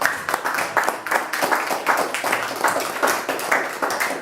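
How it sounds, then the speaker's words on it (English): An audience at a law enforcement celebration gives a big round of applause, a rhythmic, fairly loud patter of many hands clapping in bursts throughout. "Let's give them a big round of applause."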